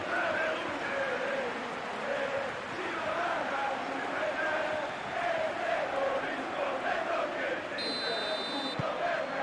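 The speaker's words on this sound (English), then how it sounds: "The crowd are calling for this to be put to bed." Stadium crowd in the football video game PES 2021, a Serie A match between Inter Milan and Juventus, keeps up a sustained chant and roar, steady and distant-sounding, with a brief buzzer-like tone near the end.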